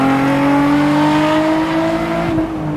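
A Nissan 350Z cabriolet's exhaust drones loud and close in a steady, throaty tone, the engine note holding and then dropping slightly near the end.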